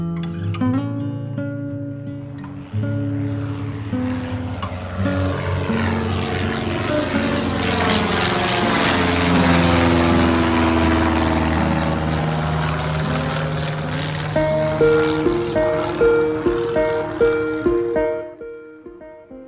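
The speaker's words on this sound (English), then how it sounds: "I got in my plane" Propeller plane engine from a video game set on a dinosaur island, a steady loud drone that swells and holds for about eighteen seconds before cutting off, with no voices over it.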